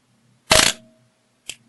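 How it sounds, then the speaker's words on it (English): An SLR camera shutter fires at 1/1000 second: a single sharp mechanical clack with the mirror flipping up and back, followed a second later by a smaller click, close and clear against a quiet room. "So press shutter."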